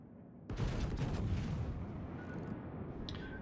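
Rear turrets of a warship firing in World of Warships: one sudden heavy boom that rolls into a long, dense rumble and slowly decays, with a faint tone and a small click near the end.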